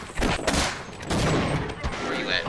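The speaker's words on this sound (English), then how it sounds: "Oh shit, I am getting sniped." Sniper gunfire in the co-op shooter Sven Co-op: several loud, sharp, broadband shots and bursts come in quick succession over about two and a half seconds, close and dense, with game noise between them.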